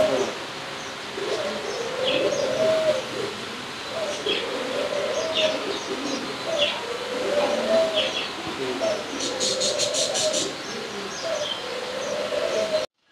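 Several Satellite pigeons coo steadily in low repeated phrases inside a bird shop, with faint background chatter and a brief high chirping near the end.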